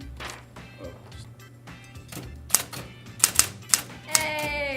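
An electric typewriter types a few sharp, irregular key strikes over a low mechanical hum, ending in a carriage-return ring and whir, heard up close.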